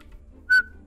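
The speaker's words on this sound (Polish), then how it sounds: "ja jak gwizdzę" A single short whistled note from a person, clear and fairly loud, rising out of quiet background hum and lasting about a tenth of a second.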